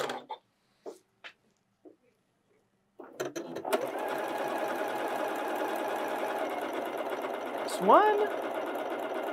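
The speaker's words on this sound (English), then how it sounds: "I want you to sew exactly 2 football shapes or 2 leaves and stop when you get to the end of the second leaf" A Janome computerized sewing machine stitches leaf shapes, running steadily and loudly for about six seconds after a few brief spoken words and pauses, with a faint rising whine near the end.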